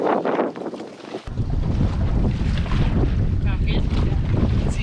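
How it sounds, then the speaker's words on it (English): Wind buffets the microphone out on the water near Culebra while a dinghy is rowed with its motor out of action, a loud continuous roar with splashy gusts and a short dip early on. "It's kind of windy out here though."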